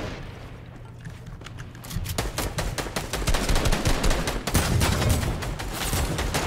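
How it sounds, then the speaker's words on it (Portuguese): Rapid bursts of Fortnite gunfire crackle continuously, growing denser and louder after the first couple of seconds, with booming low rumble beneath. "tá vindo uns tiros muito aleatórios"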